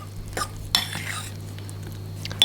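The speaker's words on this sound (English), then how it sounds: "I'm going to mix it just to get it started" A utensil stirs kolache dough ingredients, including an egg, in a bowl, making a few short, quiet scraping and clinking strokes with brief pauses between them, close by.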